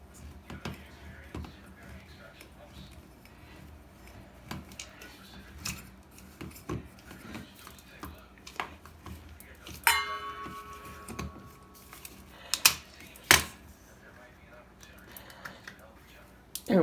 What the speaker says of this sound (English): I love these kind of can openers because it doesn't cut. It actually pops the top off of it